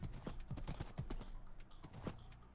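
Rhythmic hoof clip-clops of a horse in Minecraft trot along steadily, fairly faint, with no voices over them.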